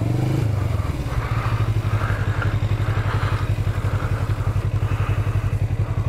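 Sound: motorcycle engine running on test track

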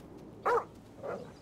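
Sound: dog barking in video game GTA V

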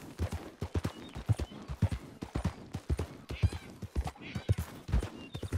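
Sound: horse hooves clip-clop in Red Dead Redemption 2 video game

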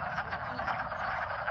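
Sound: wood frogs calling during breeding season

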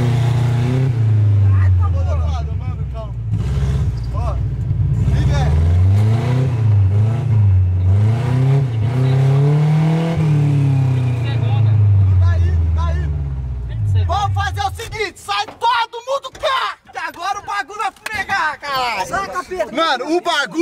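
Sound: Chevette car revving while drifting

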